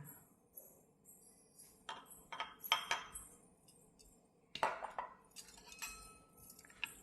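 A spoon clinks against a glass while stirring carrot juice mixed with chia seeds and honey, with irregular close taps and scrapes, a few sharper rings standing out amid quieter gaps.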